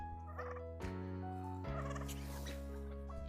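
Turkeys on a snowy homestead gobble in loud, rattling bursts, several calls overlapping close by with short pauses between them and no talking.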